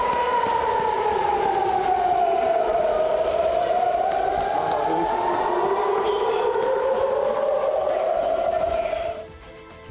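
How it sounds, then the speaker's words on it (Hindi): An air raid siren wails across an Israeli city, a loud, steady rising and falling tone that sweeps slowly for several seconds before cutting off abruptly near the end. "इजरायली शहरों के अंदर गूंजता सायरन।"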